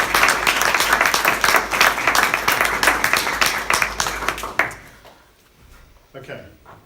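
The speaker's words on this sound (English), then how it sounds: "So can we just put our hands together, even if you're a volunteer, so clap yourself." Volunteers at a charity AGM receive a round of applause from the audience, dense clapping for about five seconds before it thins out and stops, with faint room sounds after.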